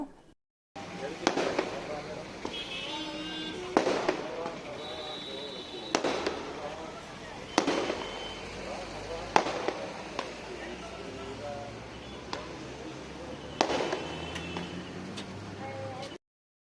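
Firecrackers burst one after another at irregular intervals, sharp cracks over a steady background murmur and distant voices.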